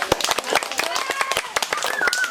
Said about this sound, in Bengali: ওটা হাততালি হয়ে যাক।